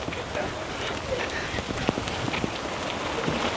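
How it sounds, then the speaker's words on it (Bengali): Heavy rain on the haor wetland makes a dense, steady patter with scattered sharper drops, close by and moderately loud throughout. "এখনো বৃষ্টি চলতেছে, আপনারা নিশ্চয়ই দেখতে পাচ্ছেন"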